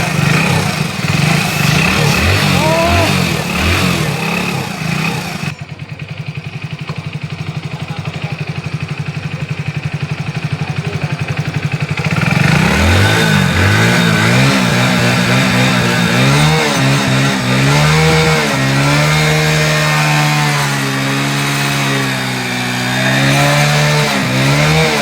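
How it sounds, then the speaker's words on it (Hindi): A Hero Splendor BS6 motorcycle with a freshly refitted engine is kick-started and runs, its loud engine noise briefly cutting out before starting up again and chugging steadily close by. "तो चलिए मैं किक स्टार्ट करके दिखाता हूँ कि ये गाड़ी अब कैसी आवाज है"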